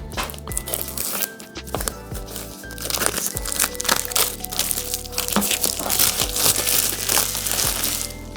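A model kit box of a K701 or KAMAZ truck is opened and its packaging crinkles and crackles, a steady close rustle of plastic and cardboard lasting several seconds.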